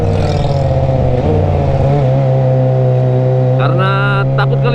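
A Kawasaki ZX25R motorcycle fitted with a Toce exhaust revs loudly and close, its high-pitched engine note holding steady, then dipping and climbing again in sharp throttle blips near the end.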